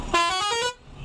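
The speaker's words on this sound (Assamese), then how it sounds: "বাপৰে, ইয়াৰ হৰ্ণটো তামাম সোমালে" A dumper truck's horn gives one short, loud, brassy blast, about half a second long and close by, before the sound drops away into road noise.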